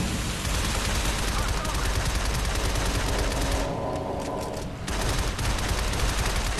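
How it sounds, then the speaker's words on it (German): Video game gunfire in Shadow Complex, shooting blindly upward, comes as loud, continuous rapid bursts with a brief lull just past the midpoint before the shooting resumes. "Aber ich schieße einfach blind nach oben, wenn wir schon was treffen."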